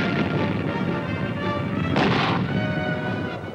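Mortar rounds exploding during the 1968 Battle of Dak To in Vietnam: a dense, loud, continuous rumble of battle noise with a sharper burst of impact about two seconds in. No voices.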